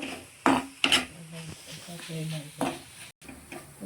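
Chopped coriander and grated coconut stirred together in a frying pan for stuffed baingan masala, with close spoon scrapes and a light sizzle under a voice talking.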